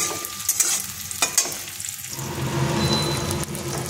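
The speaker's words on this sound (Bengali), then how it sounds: "পেঁয়াজগুলো একটু লাল করে ভেজে নেব।" Chopped onions fry in hot oil in a pan, a steady close sizzle with stirring scrapes and a few metallic spoon knocks, no voices present.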